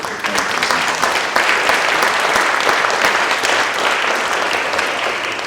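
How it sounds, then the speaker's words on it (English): Sustained, dense applause from an audience at a university venture competition final round, steady and loud throughout with no break. "Also, one more round of applause for our finalists who presented here today"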